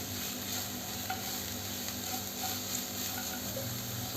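Carrot and long-sliced capsicum sautéing in a pan for a chickpea fried rice, giving a steady, even sizzle with faint scraping and stirring clicks scattered throughout, no voices.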